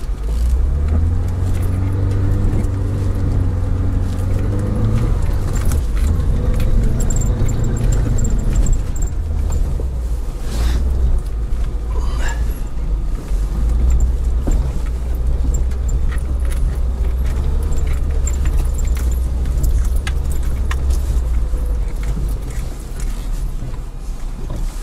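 Off-road vehicles, including a UAZ, Niva, Sobol, Opel and SsangYong, rev loudly in deep snow while pulling a stuck car free, with a steady close engine roar throughout, some mechanical clanks and no talking.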